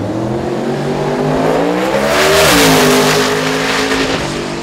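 A drag race car launches down the track, its engine roaring loud and close and rising steadily in pitch, then dipping at a gear change before climbing again.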